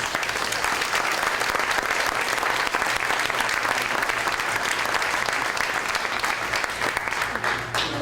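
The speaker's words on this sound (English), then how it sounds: "So let's give them another round of applause." A crowd at a hometown heroes awards event applauds firefighters with sustained, full clapping that stays loud and even for the whole eight seconds, a low hum running underneath.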